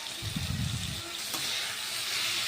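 Tomatoes and grated coconut sauté in a pan for Tamil tomato chutney, a steady close frying hiss with a low bubbling rumble early on.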